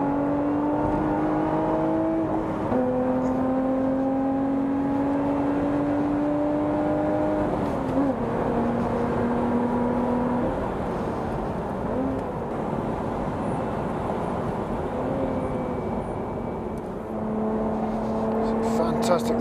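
A Lotus Evora GT430 laps a race track, its engine droning steadily near and loud, with pitch rising and dropping through gear changes while a voice talks over it.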